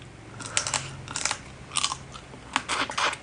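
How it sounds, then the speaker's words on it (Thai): Crab claws being bitten and sucked while eating a spicy seafood som tam with shrimp, crab and squid, giving close, quiet crunches and wet slurping bursts in irregular clusters, with no talking. "กินปูมันต้องดูดกามมันน้ำ"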